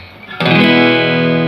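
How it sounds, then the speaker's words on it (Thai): A single strummed chord on a Morris Tornado X round-back electric acoustic guitar, plugged straight into an amplifier, rings out loud and sustains after a quiet start. "อันนี้คือเสียงกีตาร์เนี่ย"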